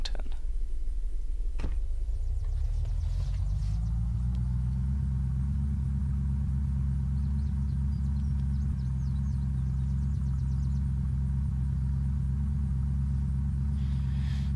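A car engine in the video game Unturned starts up and settles into a steady, loud low drone while driving, holding an even rumble for the rest of the stretch with no talking.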